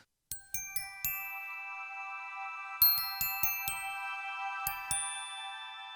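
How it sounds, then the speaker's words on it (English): Bright metallic chimes ring out in small clusters, each strike leaving a long shimmering decay, with quiet gaps between groups. "Now we have meditation chimes,"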